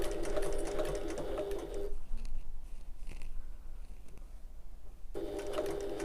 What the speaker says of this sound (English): get that under the presser foot so it's nice and flat, and then baste that into place